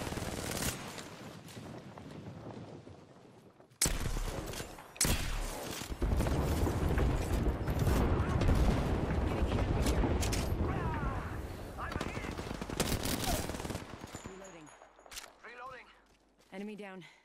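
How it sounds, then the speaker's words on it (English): Airstrike explosions and gunfire in the video game Apex Legends: a sudden loud blast opens a dense, sustained barrage of booming impacts and rattling shots that fades toward the end, with voices speaking over the chaos. "Heads up, we've got an airstrike coming in."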